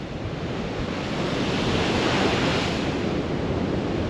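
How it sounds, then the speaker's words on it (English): Storm waves pound the Dawlish seawall during Storm Nelson, a loud continuous roar of surf and wind that swells into a heavier crash midway and stays dense throughout, with no voices. "Last few waves for the end of the video"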